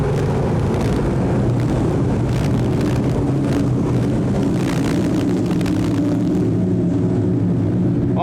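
Sportsman race cars roar around the oval at Can-Am Speedway, a dense steady engine drone from a pack of cars with rising and falling passes, loud and continuous with no talk.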